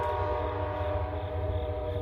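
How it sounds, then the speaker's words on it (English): A passenger train pulling out of the station in Alliance, Ohio: a steady, loud rumble with a sustained horn-like tonal drone throughout, continuous and unbroken, with no voices. "My train is now leaving because this was my destination."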